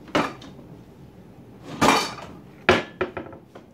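A pan being pulled from a kitchen cupboard: several sharp knocks and clatters of metal cookware against wood, spaced out, with a cluster of quick rattles toward the end.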